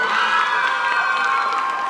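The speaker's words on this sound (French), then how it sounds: "mille et tonnerres d'applaudissements pour Lily Boy, Lilyco et les Lily Boy qui ont assuré" Audience applause and cheering at a cosplay contest during a manga festival, a dense, steady roar of clapping and shouting from the crowd that lasts the whole time.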